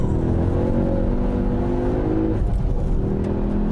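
A Ford Focus RS driven at rally speed, its engine giving a steady loud drone with tire and road roar heard from inside the car, continuous with a slight pitch shift midway.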